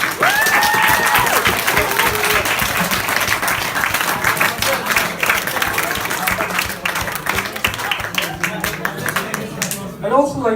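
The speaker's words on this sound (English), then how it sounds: "Give yourselves a round of applause for being some of the coolest people" Sustained, loud applause from a crowd of seniors at a senior dinner, dense clapping filling the room for about ten seconds with voices and cheers mixed in.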